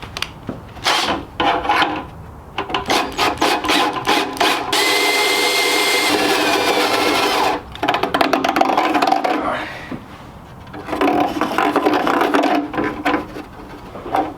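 Stubby step drill bit grinding through a panel in a Tesla-powered Vanagon wiring job, loud rasping bursts of cutting broken by short pauses, with a sustained run in the middle and no talking.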